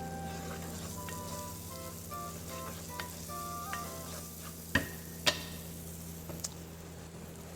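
Shakshouka ingredients sizzle softly in a pan while being stirred, a low steady fry with a few sharp clicks and scrapes of the utensil against the pan near the middle.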